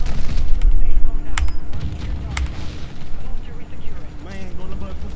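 Booming grenade blasts and gunfire from Call of Duty: Modern Warfare 2 rumble under excited voices, with sharp impacts scattered through the clip.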